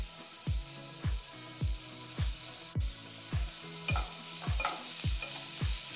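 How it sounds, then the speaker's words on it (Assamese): Momo stuffing of chicken, salt, meat masala and soy sauce sizzles and frying in a pan, stirred in a steady rhythm of scraping strokes about twice a second, close and clear, with no talking. "অলপ টাইম ভাজিম"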